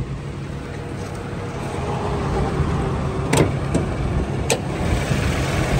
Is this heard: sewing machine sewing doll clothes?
no